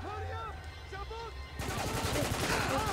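Gunfire fills a firefight in the video game Spec Ops: The Line. Dense, rapid automatic bursts break in suddenly and continue loud to the end, after shouted voices at the start.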